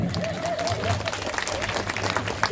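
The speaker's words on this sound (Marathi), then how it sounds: "टाळ्या वाजवा माझ्यासाठी" Audience applause at a village panchayat Women's Day game show, a dense wash of clapping from a crowd lasting throughout, with some voices mixed in.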